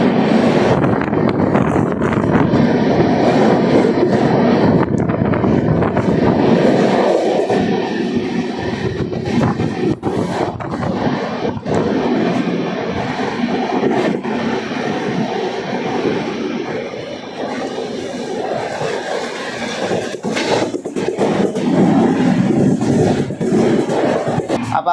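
Azimabad Express running at speed through Fatuha railway station, a loud, steady roar of wheels and carriage rumble with wind buffeting the microphone throughout, no clear talk.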